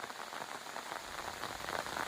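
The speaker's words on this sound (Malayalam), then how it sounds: "ഇന്ന് മഴ എന്ന് പറഞ്ഞാൽ ഭയങ്കര മഴ പെയ്തു" Heavy rain falls steadily near a river shelter, a soft, even hiss of drops on surfaces with no voices.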